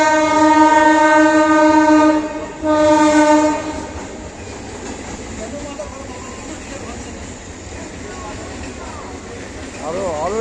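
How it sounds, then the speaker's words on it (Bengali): An Indian Railways train approaches with a loud, sustained two-tone horn blast that stops briefly, sounds again, then fades into a heavy rolling rumble of wheels on track. "আরেকটি ট্রেন আসছে, দেখতেই পাচ্ছেন।"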